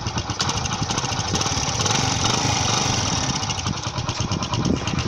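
A motorcycle engine idles close by with a crushed washer pressed against the exhaust tip, giving a steady rumbling putter with a buzzy, slightly rattling edge and no talk.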